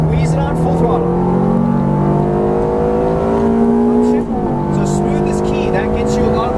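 A Ferrari F430 F1 at full throttle on a Las Vegas track course, its engine note climbing steadily, dipping briefly at one upshift, then rising again. The sound is loud and close, with a person talking over it.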